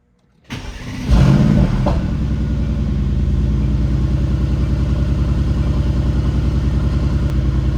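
A Mercedes-AMG GT 4.0L twin-turbo V8 cranks and catches, then settles into a steady, loud idle with a low rhythmic rumble close by.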